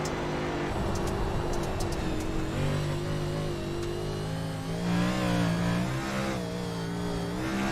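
A race car engine holding fourth gear in a Ford stock car racing game at Bristol, a steady, loud, continuous mid-pitched drone with slight rises and falls in pitch, close and alone without talk.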